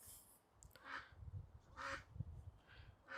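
A duck quacks in a series of three or four short, nasal calls spaced about a second apart, faint and somewhat distant over low background rumble.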